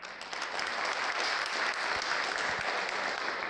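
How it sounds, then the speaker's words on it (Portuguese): Dense applause from an audience at an oratory talk, steady and sustained throughout, a crowd clapping continuously with no voices standing out. "Salva de palmas para o..."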